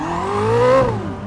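A Koenigsegg Jesko hypercar accelerates hard, its engine note climbing in pitch through a gear and then dropping at the shift, loud and close with no talk over it.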